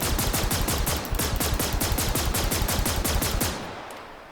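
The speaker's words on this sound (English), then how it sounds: "gives us a chance to do some shooting to show you the damage. Can I shoot off this cover?" Rapid automatic gunfire in Star Citizen pelts a ship's cover, a loud, fast, even string of shots lasting over three seconds before stopping abruptly into a fading tail.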